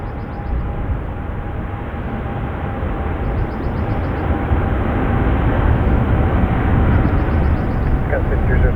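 An airliner on its takeoff roll down runway 28 left, bound for Istanbul, gives a steady, broad engine roar that builds gently and stays loud throughout, with faint chirping accents above it.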